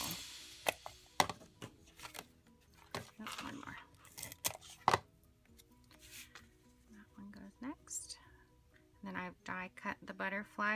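Paper butterflies being cut out with butterfly dies, a series of sharp clicks, snaps and crinkling paper sounds at close range, irregular and fairly quiet, with someone talking in between.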